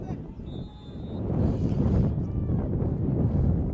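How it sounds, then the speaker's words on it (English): Gusty wind of about 20 to 25 mph buffets the microphone at a high school football field, a broad rumbling roar that swells and stays loud through the clip. "We've got breeze gusting at the Anderson back."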